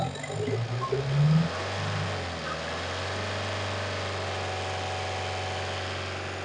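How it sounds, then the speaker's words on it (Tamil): Engine of a used Tata Sumo Gold being revved for a check, a brief rising rev that drops back to a steady, close idle hum. "ரேஸ் பண்ணுப்பா."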